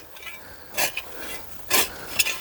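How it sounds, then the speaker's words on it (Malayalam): A hoe (thoomba) chopping into and loosening garden soil for planting taro and yam, giving three or four short, scraping, gritty strikes, quiet and close with soft rustle between them. "നല്ല രീതിയിൽ മണ്ണ് കൊത്തി ഇളക്കണം തൂമ്പ വെച്ച്"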